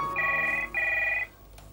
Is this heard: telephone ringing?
yes